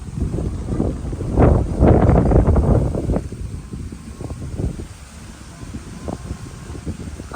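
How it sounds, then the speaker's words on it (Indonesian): Strong wind gusts buffet the microphone at a hillside campground at Bukit Gajah, Bogor, a low rumbling roar that swells for a few seconds and then eases to a steadier blustery background. "Kenceng banget guys anginnya."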